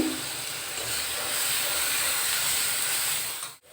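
Whole cumin seeds and a torn bay leaf sizzle in hot oil, a broad steady frying hiss held close and loud for several seconds before cutting off abruptly near the end.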